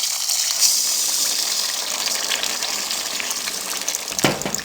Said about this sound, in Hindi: अब इसमें हम 1 कप दूध डाल देंगे।